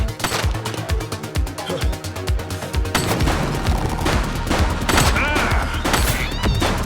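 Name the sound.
gunfire in The Precinct video game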